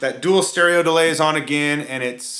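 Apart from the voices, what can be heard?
No everyday noises stand out.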